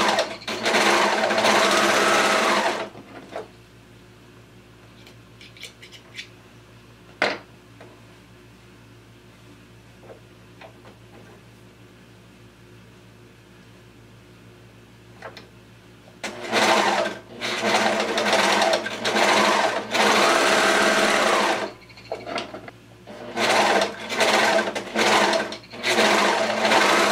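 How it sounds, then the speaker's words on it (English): A sewing machine stitches baby ruffle bloomers in loud, steady runs, stopping for a long quiet pause in the middle before several more bursts of close, buzzing stitching. "we're gonna create the ruffles on our sewing machine"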